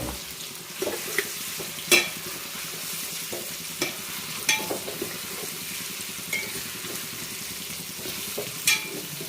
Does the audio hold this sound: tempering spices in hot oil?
yes